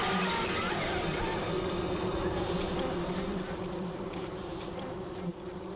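Africanized killer bees make a dense, continuous buzzing swarm drone, loud and close, steady throughout.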